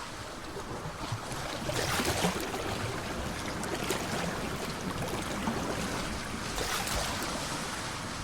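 Sea waves wash against a limestone shore, a steady broadband roar of surf with swells rising and falling, mixed with wind and no voices.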